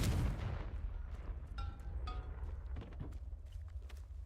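A Confringo fire-blast spell from the video game Hogwarts Legacy erupts in a heavy low boom at the start, followed by brief crackling and a few sharp magical pings as it fades.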